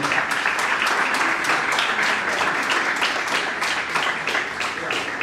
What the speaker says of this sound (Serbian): Ajmo još jedan aplauz za ove naše predavačice